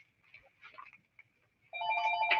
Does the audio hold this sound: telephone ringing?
yes